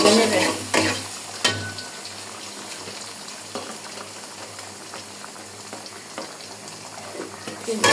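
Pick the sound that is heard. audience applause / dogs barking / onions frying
onions frying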